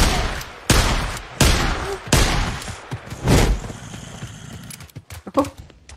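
Gunfire in the PS5 video game Days Gone: several loud, sustained bursts of shooting separated by short gaps, followed by scattered sharper shots and thumps toward the end.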